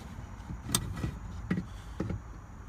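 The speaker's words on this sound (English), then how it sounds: "Okay, so I think we can just slide it out now." A steering column shaft is worked out of a Honda Accord during a repair, giving a few faint, irregular knocks and scraping clunks close by, with quiet pauses between them and no talking.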